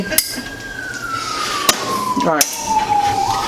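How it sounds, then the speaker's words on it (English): A siren wails nearby, its pitch gliding slowly downward then rising, with a few sharp knocks and a brief spoken word partway through. "Oh wait, no, that's real sirens. It's real sirens."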